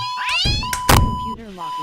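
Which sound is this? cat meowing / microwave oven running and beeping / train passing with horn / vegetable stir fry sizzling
cat meowing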